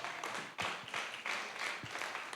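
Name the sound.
congregation clapping hands in church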